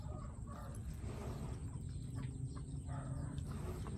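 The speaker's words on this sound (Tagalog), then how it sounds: "Nangaaway pala yung manok na yan ah." Chickens scuffle and cluck on a farm, a low bustle of fowl noise running steadily under a rough outdoor background without speech.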